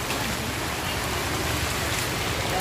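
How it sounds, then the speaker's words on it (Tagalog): Heavy rain pours steadily in a dense, even hiss, close and loud, continuing without a break across the whole stretch. "Lakas po ng ulan, mga kalingap."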